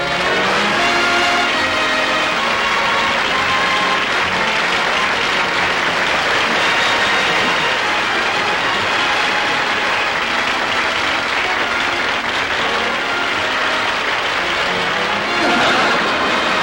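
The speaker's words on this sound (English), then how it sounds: "Look at him milk that applause." A television studio audience gives Jack Benny a long, loud, sustained round of applause, a dense steady roar of clapping with no letup.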